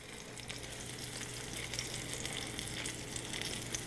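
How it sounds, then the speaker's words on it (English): Pork tenderloin sears in a hot pan, giving a steady, even sizzle that sounds close and fairly quiet, with a faint hum beneath and no voices. "You want to sear it on all sides and the ends if you can."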